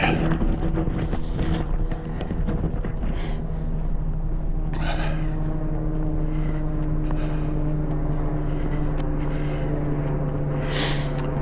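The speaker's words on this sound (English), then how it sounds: "Helicopter above our head." A helicopter flies overhead at night in Maine, a loud, steady droning engine with a low humming pitch throbbing continuously, with a few short breathy noises mixed in.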